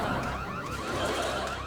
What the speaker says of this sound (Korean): 여러분 공식 경보입니다